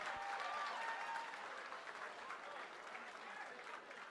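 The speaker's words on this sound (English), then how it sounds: "How about a round of applause for these two guys?" An arena crowd at the Castleton applauds two super welterweight boxers after a four-round bout, a steady distant wash of clapping that holds throughout, faintly fading toward the end.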